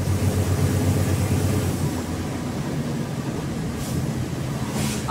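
A truck accelerates past on a road in Cacoal, Rondônia, with a loud, steady low engine rumble and road roar that holds throughout and eases only slightly midway.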